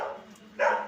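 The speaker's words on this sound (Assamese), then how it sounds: "এই কুকুৰটো বেকগ্ৰাউণ্ড মিউজিক দি থাকব" A dog gives two brief barks or yips close by, the second louder, with a quiet pause between them.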